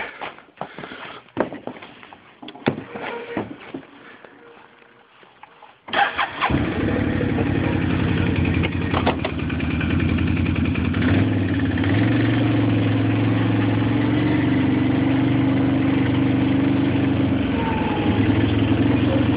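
A motor vehicle engine starting on a logging trail: a few seconds of clicks and cranking, then the engine catches with a loud burst and settles into a steady, close, rumbling idle.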